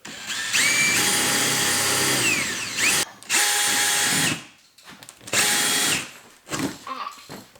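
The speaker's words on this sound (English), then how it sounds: "drill a hole in the middle of each one of these circles" A power drill whines in three bursts separated by short pauses, high-pitched and close, with a brief final spin-up at the end.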